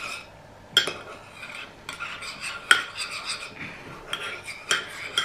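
A spoon stirs a homemade coffee-ground and olive oil face mask in a dish: a steady gritty scraping with sharp metallic clinks against the container, close and fairly loud, with no talking.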